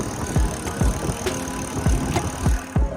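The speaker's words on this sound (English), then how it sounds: "they're using a different free hub in the back. It's got a nice chunkier sound to it" Rear freehub on an Engwe EP-2 Pro electric folding bike clicks while coasting on throttle, a chunky ratcheting tick repeating about every half second, close and fairly loud over steady road and motor noise.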